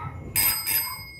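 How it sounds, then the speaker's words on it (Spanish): Pressed twice, the push button makes a 220 V electric house doorbell ring in two loud, bright metallic bursts close at hand, the second one shorter, each leaving a lingering tone. "Acá tenemos la caja de timbre y acá el pulsador."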